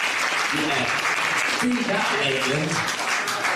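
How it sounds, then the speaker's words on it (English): Applause fills the hall at the Arc of Attrition ultra-running race awards ceremony in 2022, a steady crowd clapping that continues throughout while someone talks over it. "this deserves a round of applause, doesn't it?"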